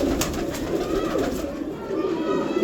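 Pigeons kept as pets coo in soft, repeated low calls close by, a steady murmuring over a background hum, with no clear voices.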